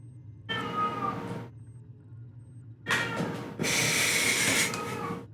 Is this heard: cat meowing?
yes